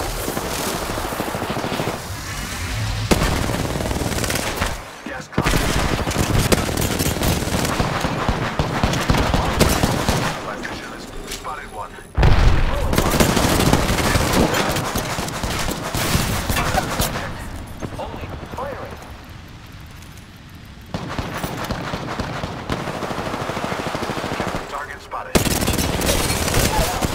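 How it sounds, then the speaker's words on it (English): Rapid bursts of enemy gunfire in a battle royale shooter, loud and close, with a dense layer of overlapping game effects and short gaps between volleys. "The enemies are shooting at me"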